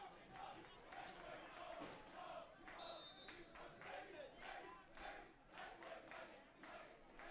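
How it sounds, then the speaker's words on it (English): Home crowd at NJIT chanting in support of the St. Benedict's Gray Bees during a prep boys soccer championship, a steady, roaring wash of massed voices rising and falling in waves across the stand. "You can hear some of the chants from the home crowd at NJIT supporting the St. Benedict's Gray Bees"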